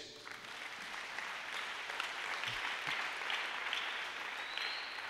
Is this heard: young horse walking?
no